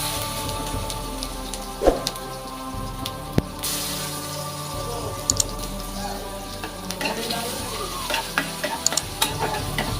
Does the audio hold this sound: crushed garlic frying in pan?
yes